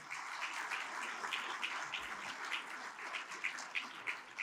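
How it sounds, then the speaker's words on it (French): Faint, distant applause from a conference audience at CSPC 2022, a soft even patter of many hands clapping with slight rises and falls. "tout le monde est censé applaudir maintenant"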